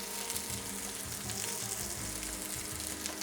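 Sausages sear in a pan for a Brazilian feijoada black bean and pork stew, giving a steady close sizzle with soft crackling and no voices.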